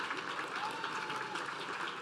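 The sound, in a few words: audience applause for the MC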